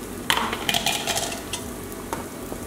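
Garlic in olive oil is stirred in a hot pot that was used for cooking potatoes, producing close scraping and clinking strokes over a faint sizzle.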